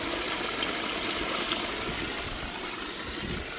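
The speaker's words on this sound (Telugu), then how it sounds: "ఈ పెద్ద మల్లెకెళ్ళి చూడండి ఎన్ని నీళ్ళు వస్తున్నాయి." Rainwater rushes through a flooded rice paddy after unseasonal rain, making a steady, dense, close-up gush of flowing water with no pauses.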